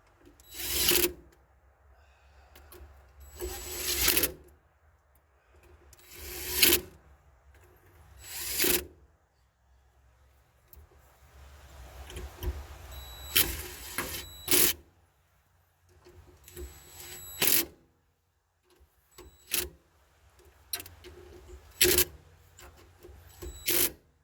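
Bolts on a faulty fuel pump assembly of a 1999-2003 Acura TL are tightened in a star pattern, giving about a dozen short, close rasping bursts of tool work with quiet gaps between them.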